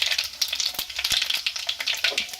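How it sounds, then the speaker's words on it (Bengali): Panch phoron spices crackle and sizzle in hot mustard oil in a kadai, a dense, busy frying hiss with sharp pops, close and alone. "তেল গরম হয়ে গেছে আর আমি দিয়ে দিচ্ছি 5 ফোড়ন"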